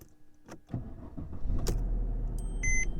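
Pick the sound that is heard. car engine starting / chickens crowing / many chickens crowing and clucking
car engine starting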